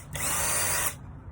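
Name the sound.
power drill screwing down a plaster mold frame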